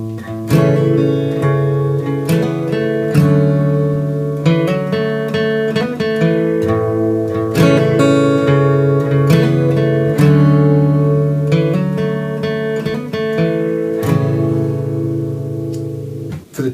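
Acoustic guitar strums the three core chords of a song in a steady, sustained progression, each chord ringing out fully before the next, played alone with no talking.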